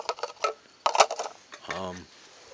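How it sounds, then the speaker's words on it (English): Light metallic clinks and clatters of a nesting camping cook kit's small frying pan, boilers and cups being handled, several quick taps close by, ending in a short hum. "Pretty neat little cook kit, and it all packs away real nice like."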